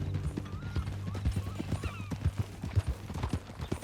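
Horse hooves clip-clop at a steady walking rhythm in Red Dead Redemption 2, close and clear, with a neigh and faint game speech mixed in.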